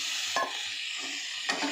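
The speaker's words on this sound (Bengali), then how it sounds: "আমি এটার মধ্যে ডিমগুলো দিয়ে দিলাম" Eggs fry in a pan with a little salt for an egg curry, giving a soft, quiet sizzle with a couple of brief scraping stirs, and no speech.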